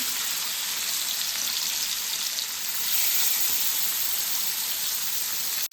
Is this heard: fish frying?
yes